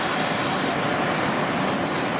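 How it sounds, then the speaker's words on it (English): Steady, dense hiss of heavy rain pouring down, a continuous roar with no talking over it. "The rain is just roaring out there."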